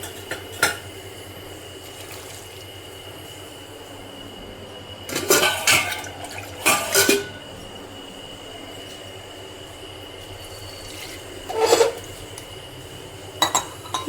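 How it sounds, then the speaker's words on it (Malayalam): Water is poured into a cooking pot of ash gourd for Kerala curry in two or three short splashing bursts. They come between long quiet stretches, mixed with clinks of metal pot and utensil. "ഇതിൽ കുറച്ച് വെള്ളം ഒഴിക്കണം."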